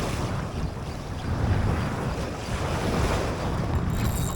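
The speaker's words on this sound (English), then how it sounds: "Like the wind is starting to pick up." Steady wind blowing over open sea water with a low rumble of surf and some wind buffeting on the microphone, continuous and moderately loud with no talking, out on the water while fishing for barramundi.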